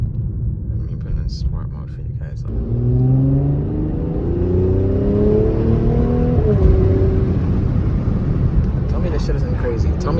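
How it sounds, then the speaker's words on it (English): A Mercedes-AMG exhaust in sport mode rumbles deep and close, rising through several revving sweeps in pitch before settling into a steady growl, with a voice briefly at the start. "I know you guys hear that exhaust"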